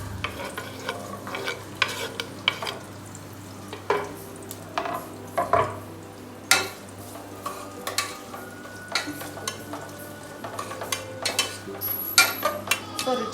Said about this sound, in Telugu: ఆనియన్స్ బ్రౌన్ కలర్ వచ్చేంత వరకు ఫ్రై చేసుకోవాలి